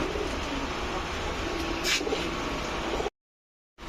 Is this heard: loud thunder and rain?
no